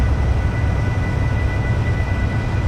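Train engine in Train Simulator on the South Wales Coastal route, working at full power as the train starts up a climb, a loud, steady, low roaring drone with no break in it.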